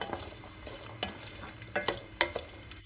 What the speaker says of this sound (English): by turning the gas on high, we have to fry the chickpeas well so that a little onion color gets on the chickpeas